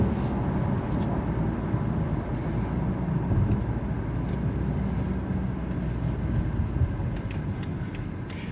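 A 2015 BMW X3 28d diesel SUV climbing a hill in sport mode, heard from inside as a steady low engine drone with road rumble and wind noise, continuous throughout.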